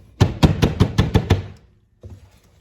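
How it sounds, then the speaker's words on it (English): A cold process soap mold is rapped on a table to knock out air bubbles, giving seven sharp, evenly spaced knocks in quick succession, loud and close, then a faint single thud after a pause. "I am tapping air bubbles out, so I just kind of tap it on the table."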